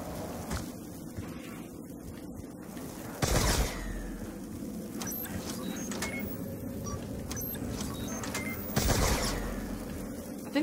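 A Ray Gun Mark II fires at zombies in a video game, giving two sharp, loud bursts several seconds apart over a steady mechanical background hum, with no talking.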